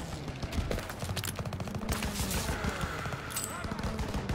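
Rapid bursts of anti-aircraft flak gun fire in the World War II shooter Call of Duty WW2, loud and continuous with dense repeated blasts under battlefield noise.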